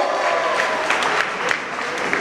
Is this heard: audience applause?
yes